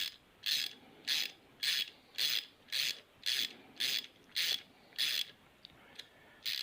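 Tap wrench cutting threads in an aluminum fuel tank fitting, a dry ratcheting rasp repeated about a dozen times in a steady rhythm, close and fairly quiet with short pauses between strokes.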